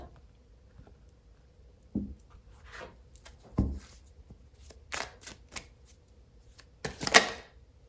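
Tarot cards being shuffled and drawn, with several short papery flicks and riffles spaced apart, ending in a louder flurry; faint and close with no talking.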